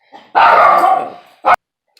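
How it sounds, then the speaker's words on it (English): Indoors, a dog lets out a loud, close bark drawn into a long rough woof, then a short second bark after a pause, with no talking. "my dog is keeping watch"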